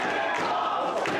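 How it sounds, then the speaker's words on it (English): A live pro wrestling crowd at a Prairie Pro Wrestling show roars and cheers loudly and continuously in a full arena, with swelling bursts of excitement. "Kelly's got this crowd just rising right up out of their seats. They're excited."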